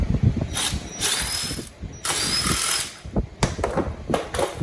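On a Fiat 500 Abarth, a hand ratchet loosens a wheel lock in quick bursts of close, rapid clicking, broken by short pauses and some metallic handling noise.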